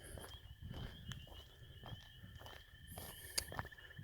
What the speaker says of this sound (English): If you're curious as to why you're hearing footsteps or whatever it is, it's because I'm on my walk, my outdoor workout